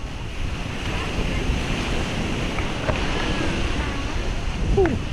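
Sea waves wash onto a beach near Pattaya under a clear sky, a steady broad roar of surf mixed with wind buffeting the microphone, continuous and close throughout.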